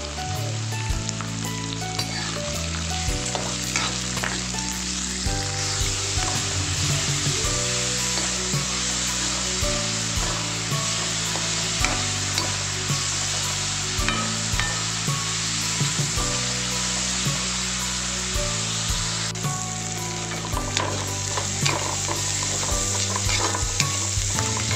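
Onions fry with salt in a pan, giving off a loud, dense, continuous sizzle heard up close, with repeated scraping stirs and a steady background hum that carries on throughout, with no voices.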